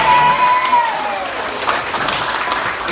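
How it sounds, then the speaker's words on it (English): Conference audience in Baguio applauding the event organizers, a dense, even round of clapping from a crowd with a faint tonal whistle early on, sustained throughout. "Give a hand of applause to all the organizers of this program."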